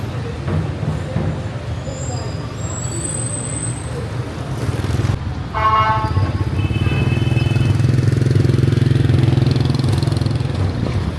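Motorcycles ride on the pavement amid busy Hanoi street traffic, with a steady engine drone and several bikes passing close by, rising louder toward the end, plus a brief horn-like tone midway.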